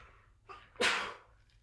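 One short, close sneeze: a quick inhale followed by a sharp, breathy burst.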